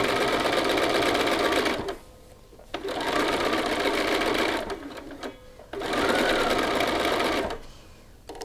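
A home sewing machine stitches across a shirt cuff, running in three steady loud whirring bursts separated by short pauses, up close with no talking.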